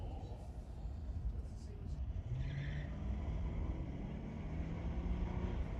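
Drag race cars idle and creep forward toward the staging beams at a strip, a steady low engine rumble under crowd noise and a rising tonal whine near the end, with a commentator talking over it.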